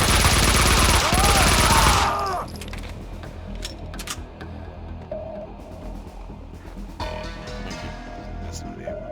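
Max Payne 2 video game gunfire: a loud, dense burst of rapid shots fills the opening two seconds, then scattered sharper cracks and impacts follow at lower level amid game ambience and voices.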